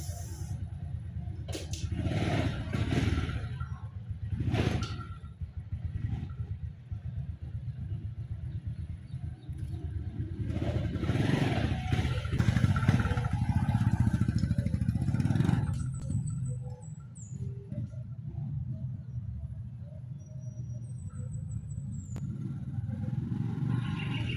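An overhauled Honda XRM 125 motorcycle engine runs steadily nearby with a low rumble, with clattering handling noises and brief revs scattered throughout.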